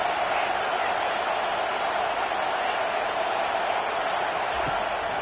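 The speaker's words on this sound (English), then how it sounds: "this crowd trying to help keep them there" A simulated stadium crowd in an NCAA college football video game gives off a steady, dense roar that holds evenly from start to finish.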